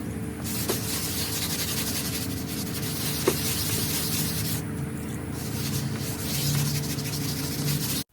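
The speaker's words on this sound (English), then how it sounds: "after you sand it down to reveal all of your terrazzo, you want to go back in with a more fine sandpaper" Steady wet sanding of a terrazzo tray, a continuous gritty rubbing and hiss kept up for several seconds at close range with no talking.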